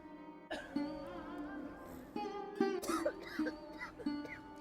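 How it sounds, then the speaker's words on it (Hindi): Repeated throat-clearing coughs and rasping exhalations during a morning yoga breathing exercise, several uneven bursts close to the microphone over a few seconds. "करिए करिए, खांसी आने दीजिए"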